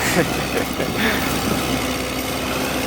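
A tractor engine idles with a steady, rumbling chug throughout, close and moderately loud.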